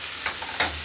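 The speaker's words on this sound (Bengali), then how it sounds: "এই যে উচ্ছে কুমড়ো ভাজা হচ্ছে, আর কিছুক্ষণ হলেই হয়ে যাবে।" Bitter gourd, pumpkin and potato fry in mustard oil in a wok with mustard seed and chilli tempering. The oil gives a soft continuous sizzle, and two quick scraping stirs come close together in under a second.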